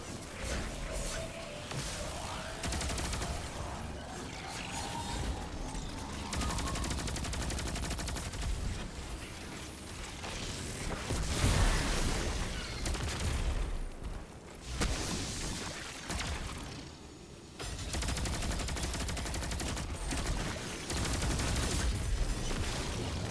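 Dense, sustained gunfire and automatic weapon bursts fill a Destiny 2 match, loud and continuous with booming impacts and brief lulls, and occasional voice chatter beneath the shooting.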